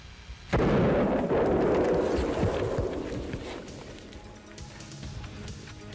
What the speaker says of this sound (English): I'm getting ready to shoot the one on the left.